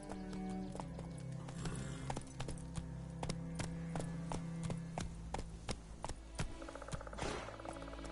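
A horse in a PS4 video game runs with a steady, rhythmic clip-clop of hooves in a clear close beat, accompanied by whinnying and snorting.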